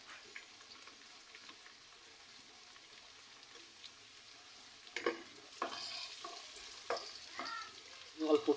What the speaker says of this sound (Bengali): জাস্ট আমি কয়েক মিনিটের জন্য একটু নাড়াচাড়া করে ভেজে নেব। এর মধ্যে আমি এখন পেঁয়াজ কুচি দিয়ে দিচ্ছি।